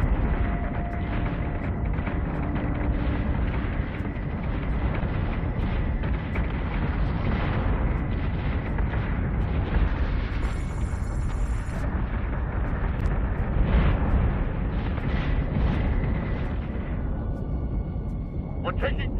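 Heavy explosions and incoming fire rumble without pause through a Battlestar Galactica space combat game, a dense, loud barrage of booms and blasts with a voice talking beneath the battle noise.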